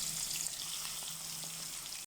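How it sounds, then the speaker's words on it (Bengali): Fish fries in hot oil in a pan, giving a steady, faint, hissing sizzle with soft crackles throughout. "মাছ ফ্রাই দিয়ে দিলাম"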